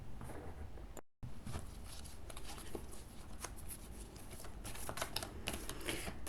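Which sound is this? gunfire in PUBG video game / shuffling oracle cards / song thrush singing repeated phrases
shuffling oracle cards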